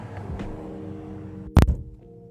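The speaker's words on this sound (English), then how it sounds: "Door sounds pretty good when you close it." A single car door of a 2015 Nissan Altima S slams shut with a solid thud, standing out over a steady engine idle hum.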